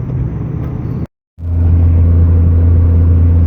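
A green 1995 Dodge truck drives along the road, its engine a steady, close, low rumbling drone that cuts out for a moment before resuming louder.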